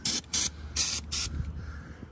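Four short bursts of aerosol lube hiss onto the rusty chain of a Chevy Mule 350, evenly spaced and close, each a loud spray followed by quiet.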